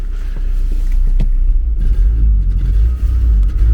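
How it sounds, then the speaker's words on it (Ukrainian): A worn-out old car's engine idles with a deep, loud, close rumble, rising into brief revs now and then with no talk over it. "двигун зараз гарно робить"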